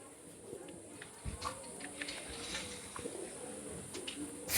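Teddy pigeons kept for sale in Kolkata coo softly at close range, the low, faint calls half-buried under steady background noise and a few scattered knocks.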